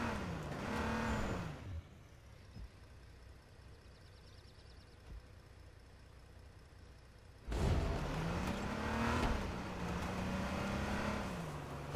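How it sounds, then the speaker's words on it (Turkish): Car engine in the video game H1Z1 drones steadily with rising and falling pitch, dropping to a quieter hum in the middle before surging back loud. "Bu araba bayağı bir sıkıntılı."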